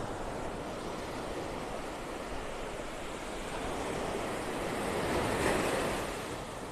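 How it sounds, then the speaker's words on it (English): Ocean surf breaks steadily on a beach in North Naples, Florida, as the tide comes in, a continuous broad wash that slowly swells louder, with some wind buffeting the microphone. "Tide's coming in. That's the waves breaking."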